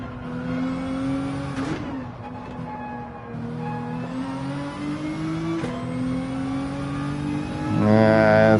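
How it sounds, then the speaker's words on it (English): A race car in Gran Turismo 7 holds a high, droning engine note through a long drift, with brief shift dips and a rising rev before a sharp whine and tire noise at the end; no talk. "Whoa, big drift there."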